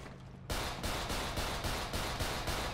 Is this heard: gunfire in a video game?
yes